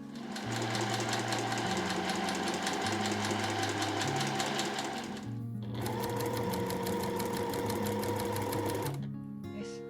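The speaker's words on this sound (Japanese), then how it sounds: "この際のところを縫います" Sewing machine stitching along the seam allowance beside a side pocket on a dress, running steadily in bursts with a brief pause midway, close and loud throughout.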